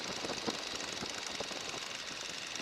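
Steady, throbbing Stearman biplane engine drone at reduced power, about 1,500 RPM, with a rough, knocking texture and broadband wind noise, continuous and fairly loud throughout, no voices.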